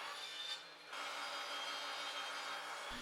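A hand saw cutting a wooden piece exactly in half for a mallet build, giving a continuous close rasping stroke sound with a short dip early on, no talk.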